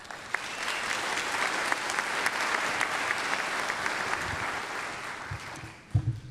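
Audience applause at a college commencement, a broad steady wash of clapping with scattered sharper claps and a few low thuds and bumps toward the end.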